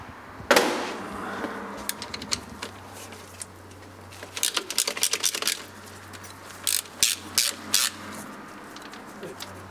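Band adjuster tool working on a Silver Cloud GM transmission, giving clustered mechanical ratcheting clicks and metallic taps in short bursts, close by with a low hum underneath.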